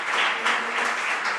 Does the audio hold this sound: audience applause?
yes